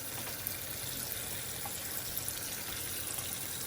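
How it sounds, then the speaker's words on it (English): Water from a tap rinsing grease out of a frying pan in a kitchen sink, a steady close hiss of running, splashing water throughout with no pauses or voices. "I'll do a quick rinse in this pan and get all this grease out"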